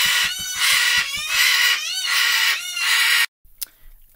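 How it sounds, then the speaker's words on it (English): Pet chickens cluck in a rapid rhythmic run and then crow and call in several loud drawn-out bursts, close by indoors, before the noise cuts off abruptly into near silence. "sorry about our little bird interruption there. They wanted attention."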